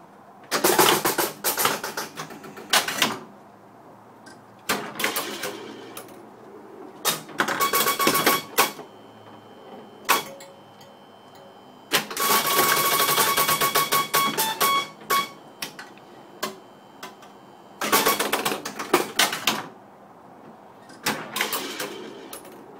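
Bursts of busy mechanical clatter and electronic chimes come and go in several loud flurries, separated by quieter pauses, from a restored Zaccaria Aerobatics pinball machine in play.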